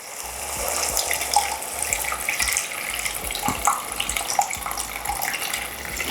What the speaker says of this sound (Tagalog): So maglalagay lang tayo ng tubig.